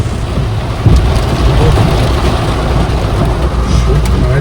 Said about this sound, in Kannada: ಹೆವಿ ಮಳೆ